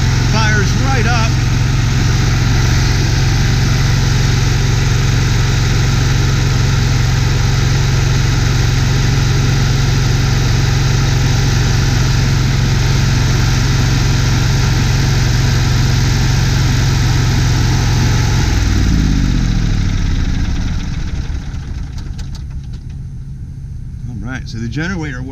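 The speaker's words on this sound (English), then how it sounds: "So the generator works." A 1998 Ford E450 Gulf Stream Ultra 30-foot motorhome's onboard generator runs at a loud, steady drone, then winds down and stops near the end, leaving quieter background sound.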